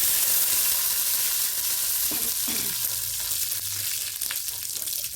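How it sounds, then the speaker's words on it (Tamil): Chana dal and curry leaves frying in hot oil for banana flower usili, a steady close sizzle with a few brief stirring scrapes partway through, no voices. "பருப்பு கொஞ்சம் சேவக்கட்டும்."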